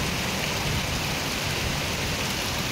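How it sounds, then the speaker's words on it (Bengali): Heavy rain pours down in a dense, steady roar, hissing evenly with no pauses. "ভালোই বৃষ্টি এসে গেছে জোরে"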